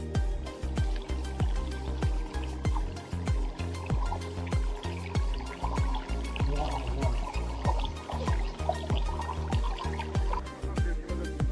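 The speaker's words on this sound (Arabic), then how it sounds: "المهم الماء يخرج من كل جهات الأطراف" Spring water at the Taouiala waterfalls in Laghouat, flowing out from several points and trickling and dripping in a steady splashing patter, close by and fairly quiet, with no voices.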